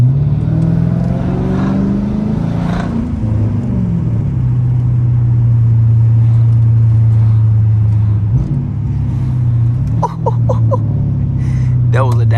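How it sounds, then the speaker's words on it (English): A straight-piped Dodge Charger R/T rumbles loudly at close range, its exhaust drone holding steady before a downshift brings a rise in revs and a burbling crackle near the end; voices and laughter mix in throughout. "That was a downshift that I did not want to do."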